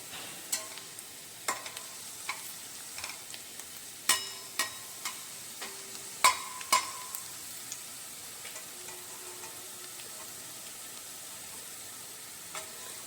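Garlic frying slowly on low heat for masala bhindi makes a quiet, even sizzle, punctuated by a dozen or so sharp spoon clinks and scrapes against the pan at irregular intervals, close by and with no voices.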